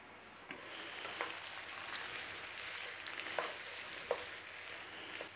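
Raw potatoes, onions and swede cook slowly in a pan for a traditional Cornish raw fry, giving a steady soft sizzle with a few small pops and crackles and no talking.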